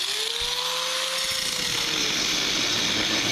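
A power tool runs loudly and steadily, cutting steel pipe for axle saddles on a 1966 Chevy one-ton dually, a continuous close whine with a descending tone early on.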